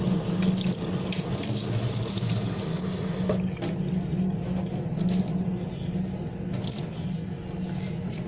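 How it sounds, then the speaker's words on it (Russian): Kitchen tap running into a sink while a new yellow microfiber cloth is wetted, a steady close rush of water with slight patter and splashing changes, no talk. "Просто смочим ее водой."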